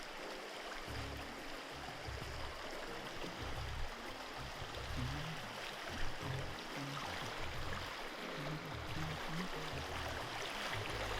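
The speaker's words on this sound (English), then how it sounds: "Oh, the water is strong." Fast-flowing river water rushes continuously, a dense steady wash of noise with low churning gurgles underneath; the Rio Grande River in Jamaica.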